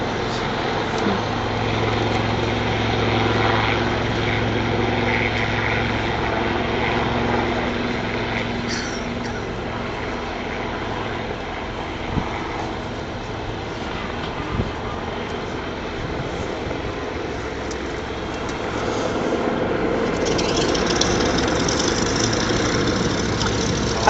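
A Lynx helicopter flies backwards at the Duxford air show, its engine and rotor drone steady and moderately distant, with faint knocks and shifts in tone, no voices.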